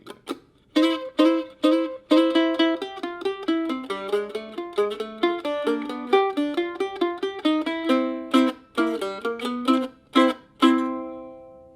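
A mandolin plays a quick, bright melodic passage of picked notes from a bluegrass tune, ending on a few strummed chords that ring out alone.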